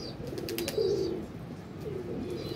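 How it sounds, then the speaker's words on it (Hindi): Domestic pigeons on a rooftop give soft, low cooing calls, one longer phrase near the start and a fainter one later, close by over a steady outdoor background. "आज निकाले हैं बाहर, कबूतर बाहर घूमने से ना छत से रिलैक्स हो जाता है"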